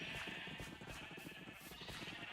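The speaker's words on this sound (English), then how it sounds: "Sheep. Need more of you." Repeated Minecraft sheep bleats, wavering nasal cries that keep going without a break over a dense game background, close and loud.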